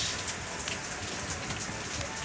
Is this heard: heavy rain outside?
yes